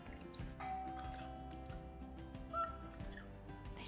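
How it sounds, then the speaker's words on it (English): A doorbell chimes faintly over a busy room hum, a short ding-dong tone sounding once. "They just rang the doorbell."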